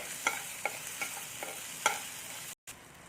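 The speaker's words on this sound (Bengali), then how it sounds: "এবার এই দুটোকে আমি ভালো করে একটু একটু আদাটাকে ভেজে নিচ্ছি আমি" Grated ginger frying in oil as it is stirred, a quiet sizzle under a series of distinct spatula taps and scrapes against the pan, with a brief silent gap near the end.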